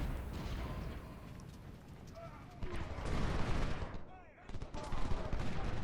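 Napoleon cannon artillery and rifle gunfire in the Ultimate General Civil War video game, distant rolling volleys and crackling shots layered together, rising in bursts, with someone talking over the battle.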